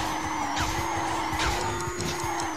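Kart braking and skidding in Crash Nitro Kart, a sustained tire squeal over a droning kart engine, with short screeching slides repeating across a couple of seconds.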